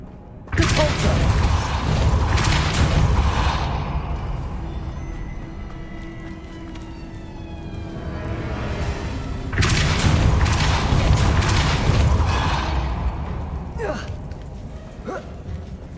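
Depulso spell effect in Hogwarts Legacy, loud booming bursts with a whooshing rush, one at the start and another near ten seconds, separated by a dimmer rumbling stretch and with lighter clicks at the end.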